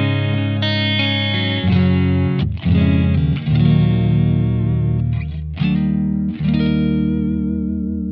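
Electric guitar played through a Blackstar AMPED-1 100-watt pedalboard amp, sustained distorted chords ringing out with a chorus-like shimmer and brief breaks between strums, loud and close.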